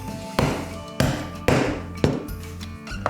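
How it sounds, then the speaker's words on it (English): A 3/4 inch English end punch is struck through leather with a series of sharp, close mallet blows, five hard knocks spaced about half a second apart, each followed by a brief ringing decay. "We'll use a end punch here."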